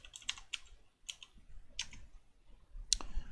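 Keys tapped on a computer keyboard while entering a Python variable, about six separate clicks at an irregular, unhurried pace, close up and fairly quiet.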